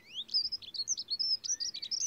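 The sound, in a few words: birds chirping in a forest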